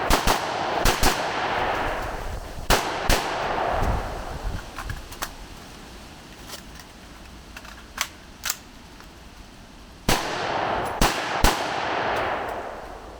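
Pistol shots fired in rapid strings during a timed shooting drill with a reload, sharp loud cracks in bursts near the start and again near the end, with a quieter stretch of scattered shots between.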